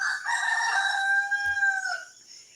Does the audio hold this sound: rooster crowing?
yes